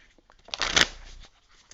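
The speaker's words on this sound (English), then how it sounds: "I've already pre-shuffled. I'm going to continue to do so while I talk to you." Tarot cards are shuffled by hand in a single brisk burst of riffling and flicking that swells quickly and then fades, close and clear with no voice over it.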